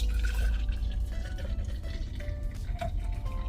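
Snake bean drink poured from close by into a jar, giving a steady liquid trickle with faint drips and no talking.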